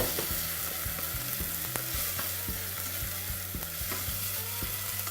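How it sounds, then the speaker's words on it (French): Sweating onions for risotto are stirred in a pan, a wooden scrape and knock repeating every half second or so over a constant gentle sizzle, close up with no talk. "On remue."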